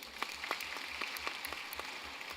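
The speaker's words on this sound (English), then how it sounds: "a round of applause for him" A conference audience gives a soft round of applause for a panelist at a families conference, with scattered claps heard faintly and at a distance over a steady low hum for a couple of seconds.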